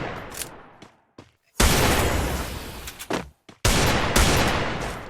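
Gunfire in the mobile battle game Free Fire: short bursts of loud rapid shots, then two long sustained volleys separated by brief silences.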